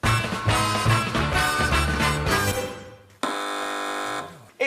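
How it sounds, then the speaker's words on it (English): Contestant buzzers sound on the British TV panel quiz show Have I Got More News (2018): a loud, sustained buzz with musical tones, then a second steady electronic buzz after a brief gap. "Fingers on buzzers, teams."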